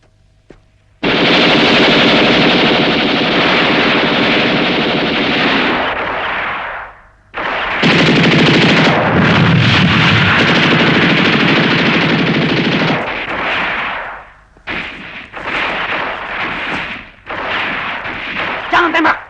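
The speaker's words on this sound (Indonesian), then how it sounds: "Saya kira sebelumnya Komodor perlu mengetahui bahwa tembakan dimulai dari pihak sana." Heavy gunfire is exchanged in a film: long, loud, continuous bursts of machine-gun and artillery-like fire with brief pauses between volleys and a voice heard amid the shooting.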